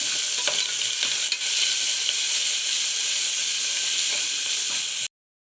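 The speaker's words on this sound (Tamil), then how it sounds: "இதையும் சேர்த்து நல்லா வதக்கிக்கலாம். இப்போ தக்காளி போட்டுக்கலாம்." Tomatoes sauté in a pan for a vegetable barnyard-millet rice. A strong continuous sizzle runs throughout with occasional stirring clicks, then it cuts off abruptly.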